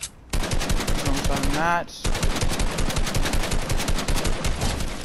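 Rapid, sustained SMG fire in Fortnite, a dense stream of close, loud gunshots that pauses briefly and then resumes, with a player talking over it.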